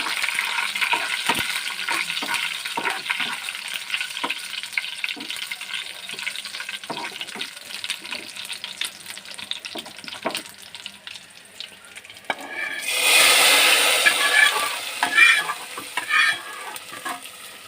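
Tempering of spices in hot oil for mango dal, a long stretch of light crackle and clicking stirring that swells into a brief, louder rushing sizzle as it goes into the dal, then settles back; no speech.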